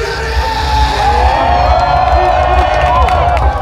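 A large crowd of runners cheering and whooping at the start of the Run Rio 21 km race, a loud continuous roar of yells and shouts with whistles rising toward the end.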